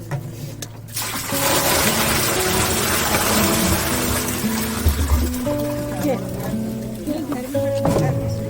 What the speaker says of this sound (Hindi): अब हम डाल रहे हैं इसमें 10 लीटर पानी।